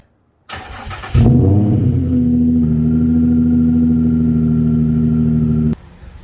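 A car with only a cat-back exhaust fitted starts up with a sharp catch, then settles into a loud, steady, throaty idle hum close by for several seconds before cutting off abruptly.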